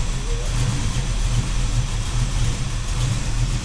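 A 1968 El Camino with a high-rise intake and Flowmaster exhaust rumbles loud and close, its deep throaty idle pulsing as the engine is held up on the gas.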